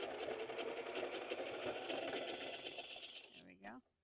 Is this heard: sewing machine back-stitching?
yes